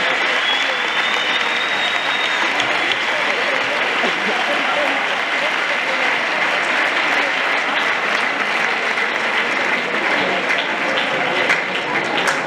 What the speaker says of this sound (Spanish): Fuerte aplauso directamente desde Huelva